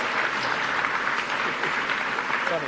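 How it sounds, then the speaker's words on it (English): A crowd applauding at Frontier Expo 17, a dense, continuous patter of clapping that holds steady throughout. "Pause for applause here."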